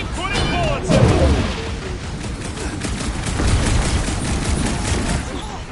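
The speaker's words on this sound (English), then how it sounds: "I'll keep putting bullets in them." Rapid gunfire in the Marvel's Guardians of the Galaxy video game, a dense continuous volley with bursts and booms, while voices talk over the fighting.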